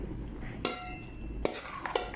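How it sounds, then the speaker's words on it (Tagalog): Meat for biryani being stirred and moved into a round cooking pot, with a few sharp scraping clinks of a utensil against metal over a soft background sizzle. "ililipat ko muna yung mga karne natin dito"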